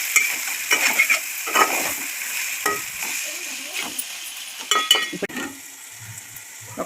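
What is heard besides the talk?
chicken pieces frying and being turned in the pan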